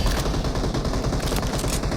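Rapid bursts of gunfire from the battle-royale mobile game BGMI, played on an iPad: dense, continuous automatic shots crackling over two seconds with no speech.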